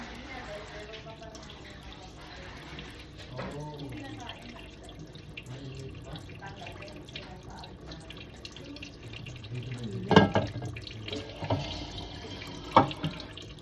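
Kitchen tap runs with a weak, thin stream while a chicken gizzard is cleaned, a steady close trickle with splashes and clatters as the gizzard is rinsed, brief talk under it.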